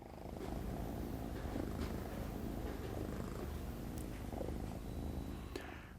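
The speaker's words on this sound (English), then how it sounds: "I'm going to actually let you listen to her purring for just a second." A cat purring steadily and close up, a soft continuous rumbling rhythm with no talking.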